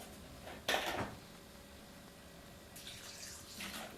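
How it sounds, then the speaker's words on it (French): Water is poured into a rum cocktail, with a short splashing pour near the start and a softer trickle toward the end over a faint, quiet background. "Un peu d'eau pour alléger tout ça."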